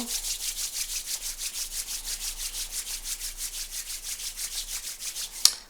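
Two palms rubbed briskly together during a Qi Gong exercise, a soft, steady back-and-forth swishing with even rhythm, close and quiet, ending with a light clap-like tap.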